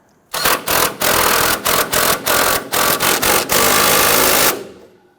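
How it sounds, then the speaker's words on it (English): An air impact wrench snugging a sway bar end link bolt during front shock replacement on a Nissan Frontier, loud close rattling bursts in a quick stuttering series ending in one longer run. "I'm going to go ahead and snug down that bolt for the end link."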